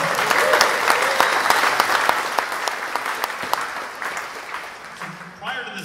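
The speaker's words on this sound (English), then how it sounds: "Let's give him a round of applause." Audience at a maker convention's closing ceremony breaks into a full round of applause, dense steady clapping that gradually thins and fades, with a voice briefly emerging at the very end.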